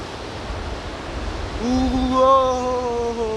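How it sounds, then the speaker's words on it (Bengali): A steady broadband roar of surf and wind at Digha beach at night; partway through, a sustained tonal hum rises over it and holds to the end. "ঠান্ডা ঠান্ডা বাতাস উঠে গেছি উপরে দেখো সমুদ্র সামনে কিন্তু ক্যামেরা ধরা পড়ছে না ঠিক করে মারাত্মক ঢেউ"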